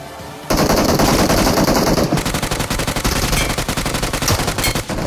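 Rapid automatic bursts from a UMP submachine gun in a battle royale video game, a dense loud stream of gunshots starting abruptly after a brief pause and continuing with sharp rhythmic pulses.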